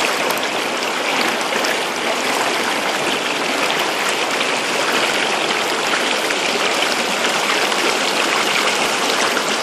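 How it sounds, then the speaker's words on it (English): A river in spring flood roars past at a gold-sluicing spot, a loud, dense, unbroken rush of water with no voices. "I normally work on the other side of the river, but as you can see, it's roaring pretty good"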